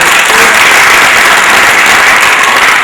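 Loud, sustained applause from a theatre audience after a stage play, a dense, even wash of many hands clapping close and unbroken throughout, with no speech over it.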